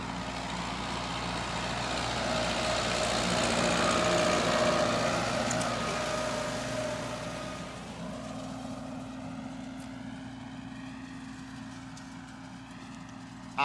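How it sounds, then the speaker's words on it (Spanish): A heavy tractor engine rumbles steadily, growing louder over the first several seconds as it draws near on a ranch, then settling into a lower, constant drone. "Ahí viene nuestro amigo con el tractor."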